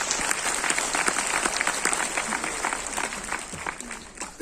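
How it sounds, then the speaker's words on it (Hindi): Hall audience at a direct-selling company event in Kolkata's Nazrul Mancha bursts into steady, dense applause, continuous and fairly distant for the whole stretch. "ये आपके लिए जबरदस्त तालियां बजाइए इसके लिए।"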